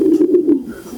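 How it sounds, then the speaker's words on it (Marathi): A racing pigeon gives a close, loud, throaty coo in a few rolling pulses, heard alone with no talk. "छान आहे हा कबूतर."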